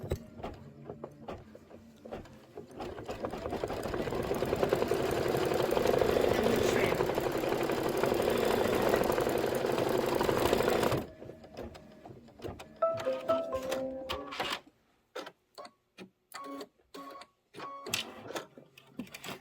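A sewing machine stitches a quilted pillow block in a steady whirring run for several seconds, then stops, followed by scattered handling clicks and soft fabric noises.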